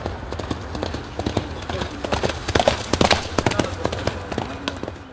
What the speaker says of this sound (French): C'est un plaisir de voir les chevaux courir.